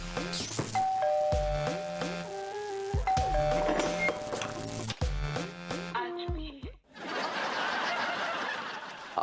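A faulty chiming doorbell ding-dongs repeatedly in short melodic bursts, then gives way to a burst of broadband noise near the end.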